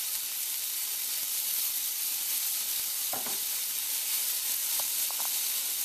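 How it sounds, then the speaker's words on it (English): One finely diced small onion and two to three garlic cloves hit hot oil, a steady close hiss of sizzling throughout with a few faint clicks of a utensil near the middle and end. "So in goes 1 small onion that I diced up finely, as well as"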